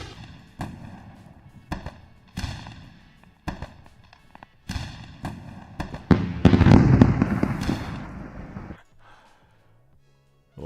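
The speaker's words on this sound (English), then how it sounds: "It's definitely worth a round of fireworks." Fireworks sound effect: a string of sharp separate bangs at a steady rhythm, then a dense crackling, booming burst before fading to quiet, with no talk.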